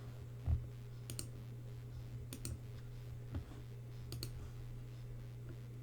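Computer mouse clicks while working in Cricut Design Space, a few sharp, isolated double clicks spaced a second or two apart over a low steady hum, no talking.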